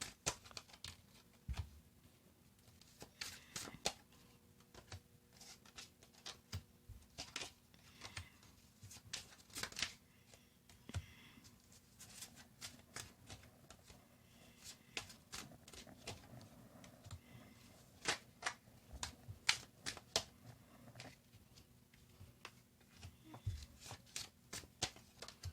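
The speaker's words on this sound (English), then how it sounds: "So, one more shuffle," A deck of tarot cards being shuffled close up: quiet, irregular papery riffles, taps and slides repeating throughout, with no talking.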